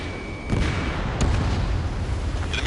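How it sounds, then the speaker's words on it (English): Missile launch and explosion in the Ace Combat 7 video game: a loud boom erupts about half a second in, followed by a sustained heavy rumble and a second sharp burst, with no talk. "Missile launched."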